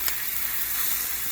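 Onions caramelizing in a pan while mutton and pork burgers are being cooked give off a steady, close hiss of sizzling that fills the whole stretch with no talk.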